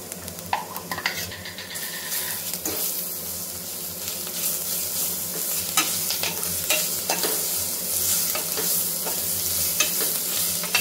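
Ginger garlic paste sizzles steadily in a pan of oil with chillies and onions while being cooked for bagara rice, and a spoon stirs and scrapes intermittently throughout, loud and close with no talking.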